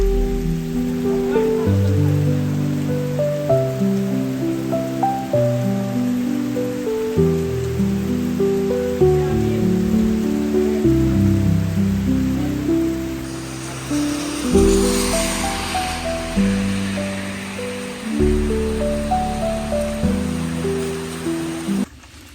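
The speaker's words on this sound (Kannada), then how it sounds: "ಎಲೆ ಮಾಡಲ್ ಹತ್ರ ಹೋಗೋ ಸರಿ ಜೋರಾಗಿ ಮಳೆ ಬಂತು." Heavy rain pours steadily over a tea estate, a continuous wash of hiss that swells louder midway, with tonal music playing over it throughout.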